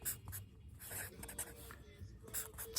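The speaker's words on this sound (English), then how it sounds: "I'll write it out for you right now" Pen or pencil scratches across paper as a word is written out by hand, a series of soft, close strokes with short pauses between them.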